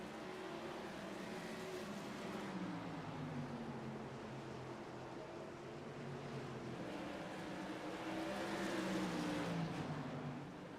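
Modified race cars running laps at Oxford Plains Speedway, a continuous engine drone with rising and falling pitch as cars pass, loud and sustained, swelling toward the end.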